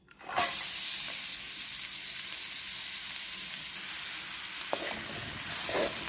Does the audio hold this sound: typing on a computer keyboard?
no